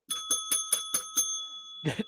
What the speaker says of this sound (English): Tony, ring the bell.